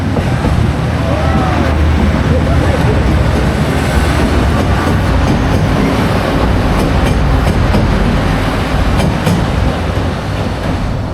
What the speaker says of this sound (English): I think the train might be passing by.